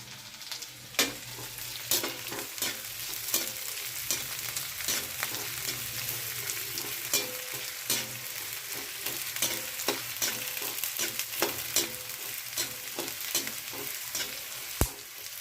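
Potatoes and green chillies frying in a pan for sabudana khichdi, a steady close sizzle under frequent scraping and clinking stir strokes of a spatula against the pan.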